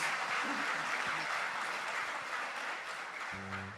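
A church congregation applauds steadily through a Portuguese-language sermon service, a dense, even wash of clapping that stays loud throughout and eases slightly at the end, with a brief low tone entering near the close.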